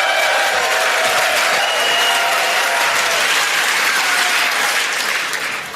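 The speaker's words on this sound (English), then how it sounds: "Thank you for that very generous applause." A large audience applauds loudly and continuously, a thick wash of clapping that holds steady for several seconds before starting to fade.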